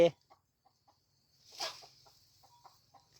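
A few soft clucks and a brief louder squawk from an old chicken on a rural Thai farm, sparse and moderately distant, with faint low background hum.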